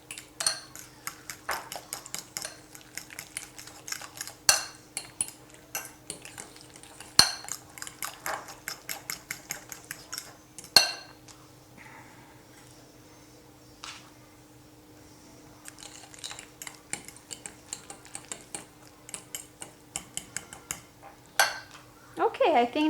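Twice-baked potato filling being mixed by hand with a whipped egg and ham in a bowl, heard as a steady run of spoon-against-bowl clinks and scrapes, rhythmic and close, with a brief pause midway.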